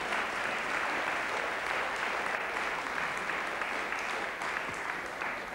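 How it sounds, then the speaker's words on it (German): Studio audience at the German ZDF quiz show Der große Preis claps steadily throughout, a dense, even wash of applause with no break, filling the room at moderate level. "Kein Grund zum Klatschen, war keine gute Pointe."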